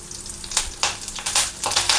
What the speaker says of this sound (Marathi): खमंग अशी फोडणी बसली आपली